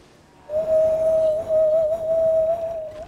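A person attempts a whistle, producing one sustained, thin, wavering tone that wobbles in pitch and briefly falters midway, close and fairly clear over faint background hiss.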